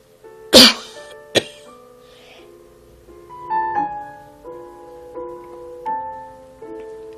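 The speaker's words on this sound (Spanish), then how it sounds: "comenzó a toser sordamente sobre la mano que tenía ante la boca" A woman coughs dully into her hand, giving two sharp, close coughs, followed by soft, sustained tonal music.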